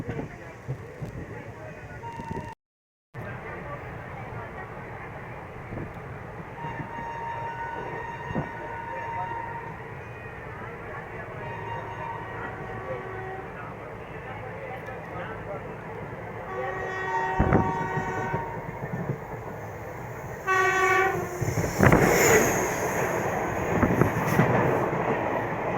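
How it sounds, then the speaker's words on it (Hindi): Sadbhavna Express passenger train running from Raxaul to Anand Vihar passes on the crossing track beside a halted train, its rumble steady with rail clatter and a horn swelling louder near the end. "सद्भावना एक्सप्रेस जो कि रक्सौल से चल के आनंद विहार को जाती है, हमें क्रॉसिंग कर रही है।"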